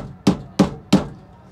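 Three sharp, evenly spaced knocks, loud and close, as a drill hammers a fixing in to secure batteries during a 12V off-grid setup install, each knock dying away quickly before the next.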